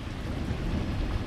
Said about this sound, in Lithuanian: Kapitališkai, kaip lyja.